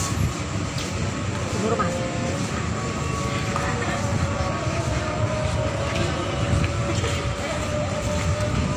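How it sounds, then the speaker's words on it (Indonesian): A local train runs past on the line from the east, a steady rumbling roll with faint tonal squeals over it, heard at a moderate distance while a voice speaks briefly. "itu dia kereta api apa tuh lokal palingan"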